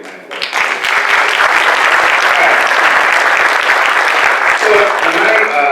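An audience at a DePaul Humanities Center lecture breaks into applause that swells within the first half second, then holds as steady, full clapping across the room with a faint murmur underneath.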